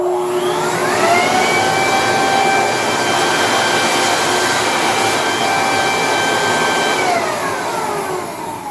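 A petrol leaf blower vacuum mulcher with a metal blade runs at a sustained loud roar with a high whining tone that rises in pitch near the start and sinks back at the end, close and steady throughout.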